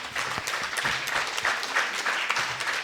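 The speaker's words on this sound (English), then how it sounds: "we really need to give him a very, very loud round of applause" An audience at a women's training camp applauds, a dense, steady spatter of many hands clapping close by, sustained throughout with no speech over it.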